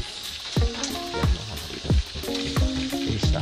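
Bitter gourd (ampalaya) adobo being stirred in a pan over a steady sizzle, with a spatula knocking and scraping the pan roughly every half second in an even rhythm, close and fairly loud.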